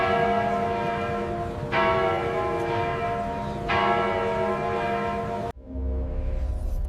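Big Ben striking the hour: deep, ringing bell strokes with long humming decay, one fresh strike roughly every two seconds, loud and resonant before the sound cuts off abruptly near the end.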